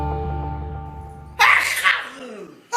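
A single loud, close sneeze bursts out after a stretch of low humming tone, followed by a brief trailing breath.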